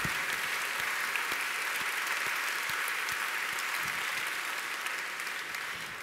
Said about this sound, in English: So please give a big round of applause to our program committee, to all our speakers and our keynoters.